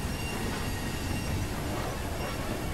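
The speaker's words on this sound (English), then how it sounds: "Gotta love that flange squeal." Train wheel flanges squeal in Train Simulator 2017 as the coaches of a Southern Region steam train run on, a steady dense rumble of rails with thin high whines riding on top, no voices.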